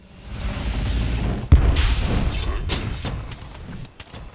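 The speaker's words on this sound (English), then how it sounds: "In World it has this nice deep boom sound effect for the explosion" A deep booming switch axe elemental discharge explosion from Monster Hunter hits suddenly, followed by crackling whooshes and scattered thuds of game sound effects, with faint talk underneath.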